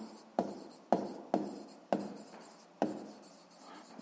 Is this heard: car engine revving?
no